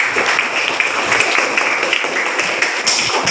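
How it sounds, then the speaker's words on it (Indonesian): A classroom of students gives a lively round of applause, loud and steady clapping throughout with no one speaking. "Kasih tepuk tangan yang meriah"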